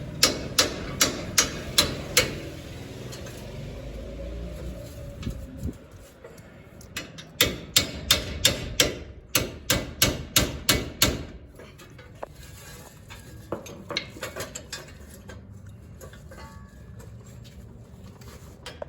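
Hammer smacks on the wheel bearing hub of a Nissan Titan, a steady run of sharp metallic blows in quick repeated bursts with short pauses between, close and fairly loud, with no talking.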